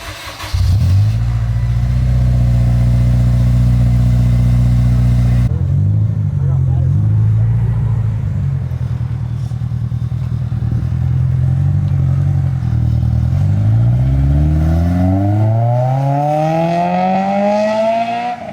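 An Acura RSX Type-S with an aftermarket exhaust idles loud and deep, drops briefly, then revs up repeatedly with rising, throaty roars close by.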